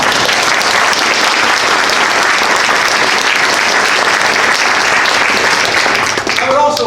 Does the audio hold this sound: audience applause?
yes